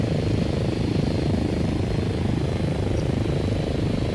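An underpowered UAV's aircraft engine in a video game runs on manual control as a constant, dense low propeller drone that holds steady throughout.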